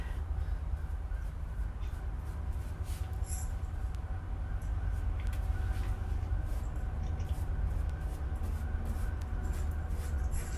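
A train passes outside, heard as a steady low rumble and rolling hum that fills the whole stretch at moderate distance, with crows cawing faintly over it.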